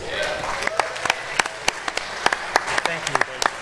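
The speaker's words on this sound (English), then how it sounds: "Will you please give a massive round of applause for Gabe of Rufus" An audience at a startup pitch event applauds, a dense bed of clapping with sharp, scattered individual claps standing out, while a voice speaks over it partway through.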